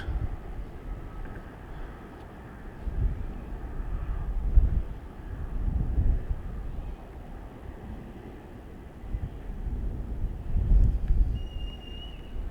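Gusty wind rumbles across the microphone by the harbour at Porto Pi, near San Carlos Castle in Palma de Mallorca, swelling in a few stronger buffets over a steady low roar.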